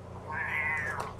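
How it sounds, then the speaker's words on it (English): A pet kitty cat gives one drawn-out, rising-and-falling meow, close and clear over a faint low hum. "it's my kitty cat"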